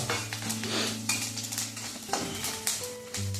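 Soaked sabudana (sago pearls) being stirred and turned in a pan for a Maharashtrian breakfast, with a soft sizzle, scraping strokes and small clinks of a spoon against metal, close and steady with a constant hum underneath.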